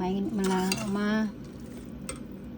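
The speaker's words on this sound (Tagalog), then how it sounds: "Ilagay ko na dito sa jar na kinukuluan ko na yun dyan." Sliced garlic goes into a glass jar with a few light clinks and taps of glass and utensil, while a voice is briefly heard at the start.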